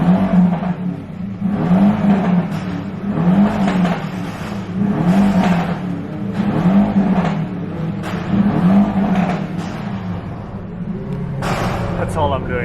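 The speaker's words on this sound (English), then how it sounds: "Bro, that car is so loud." A loud car revs repeatedly at a car meet, its engine rising and falling in steady pulses across the whole stretch, with people talking over it.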